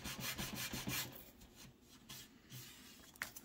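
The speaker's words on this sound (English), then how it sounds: "I'm trying to sand the edges because I don't want to lose the brick detail." Sandpaper rubs along the edges of an HO scale model building shell with brick detail, close-up rasping strokes in a quick rhythm at first, then slower and quieter scrapes.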